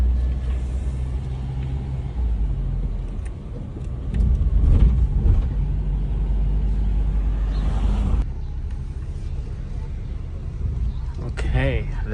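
A 2014 car with about 90,000 miles drives along, its engine and road rumble a steady low drone from inside the cabin, with a person talking over it.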